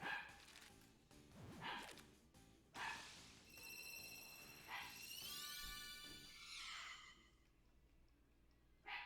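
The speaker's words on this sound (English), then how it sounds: "I don't know if you guys just heard my dog barking." A pet dog barks several times in short bursts, faint and somewhat distant, mixed with breathy sighs and game music with sweeping tones.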